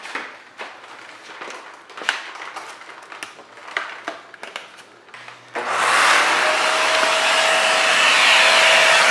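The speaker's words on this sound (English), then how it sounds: "Now we're going to get your handy vacuum cleaner." Scattered clunks and rustling handling noises, then a handheld vacuum cleaner switches on inside an Infiniti G35 car during a racing seat install and runs with a steady loud whine and roar.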